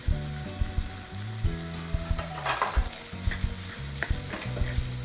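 Chopped tomatoes land in a pan of half-sautéed onions for paneer keema masala, frying with a close crackling sizzle while a spatula stirs and scrapes, under a low tonal hum.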